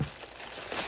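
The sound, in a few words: ripping open a fabric package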